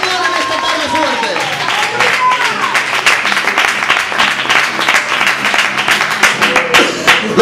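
A church congregation applauds and claps during a Spanish-language worship service, a dense, steady wash of clapping lasting throughout, with voices calling out over it.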